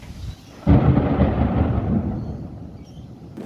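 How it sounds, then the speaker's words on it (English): A heavy rumble of thunder from a supercell storm with lightning and hail in Sydney rolls in suddenly and slowly fades, loud and broad, over a steady storm background. "Storm Supercell suddenly hit Sydney, bringing lightning and hail, shocking the entire area."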